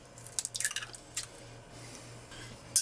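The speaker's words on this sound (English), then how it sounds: "We are going to start with 2 eggs just in the pot here." Two eggs cracked and dropped into a pot to start a bakoyaki batter, giving a few soft wet drips and squishy plops close by, then a sharper clatter at the end, with a faint steady hum underneath.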